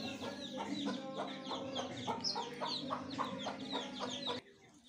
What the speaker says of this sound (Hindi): ये भी असील मुर्गी है